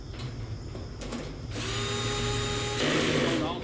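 Power drill whirring as it drives screws into a Monument Grills 77352MB six-burner propane gas grill during assembly, starting softer then revving loud and steady for a couple of seconds.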